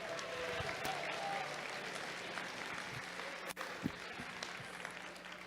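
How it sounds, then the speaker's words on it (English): Quiet, steady crowd applause at a FIRST Tech Challenge robotics opening ceremony in Wisconsin, heard at a distance in a large hall, with a couple of sharp knocks near the end. "Let's give them a round of applause"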